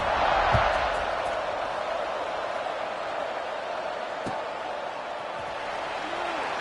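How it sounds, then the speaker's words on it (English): Football stadium crowd at a game against Oregon, a broad steady roar that swells briefly early on and then settles into a sustained buzz, with a commentator talking over it. "this crowd is buzzing after that last score"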